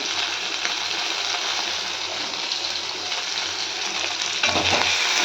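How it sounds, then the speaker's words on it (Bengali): Potato pieces fry in fish oil seasoned with turmeric and salt, giving a steady, dense sizzle that carries unbroken to the end and swells a little louder near the close, with no voices. "মাছের তেল দিয়ে আলু ভাজা"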